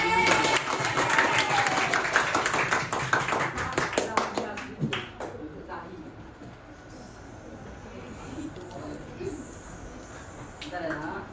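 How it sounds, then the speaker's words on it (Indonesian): A classroom audience claps hands in a short burst of mixed applause, close and fairly loud, fading after a few seconds into quiet room noise with voices speaking. "Tepuk tangan."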